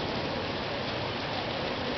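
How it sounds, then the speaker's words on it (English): Heavy rain pours down steadily in a constant dense hiss of drops on surfaces, loud and unbroken, with no talking. "So I got 2 or 3 more days of this rain shit."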